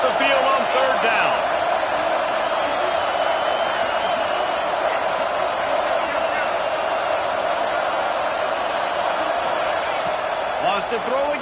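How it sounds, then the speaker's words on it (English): Home crowd at an Arkansas football game roaring steadily through a third-down defensive stand, a dense sustained wall of cheering that barely varies, with a commentator talking over it. "Here comes this home crowd as the defense tries to get off the field on third down."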